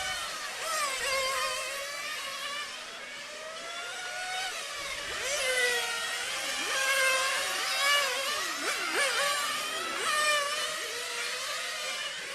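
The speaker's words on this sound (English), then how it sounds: "So back to Nitro, as you can hear the screaming engines." Several 1/8 scale nitro RC race cars scream around a track during qualifying at a European championship, their high-pitched engines rising and falling as they rev and pass in overlapping waves, loud and continuous throughout.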